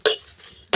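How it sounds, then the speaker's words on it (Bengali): Five-spice mix and radhuni seeds frying in oil give two sharp, close crackling pops, less than a second apart, with a faint hiss between them and no talking. "দেখুন ফটফট একটা আওয়াজ হচ্ছে, তার মানে আমার পারফেক্টভাবে ভাজা হয়ে গেছে"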